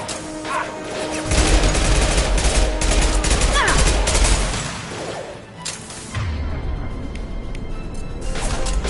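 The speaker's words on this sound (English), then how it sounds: "Firing concussive shot!" In Mass Effect 2, a concussive shot fires amid a dense, loud barrage of gunfire and crashing impacts. The combat noise rolls on continuously, dips briefly, then surges again.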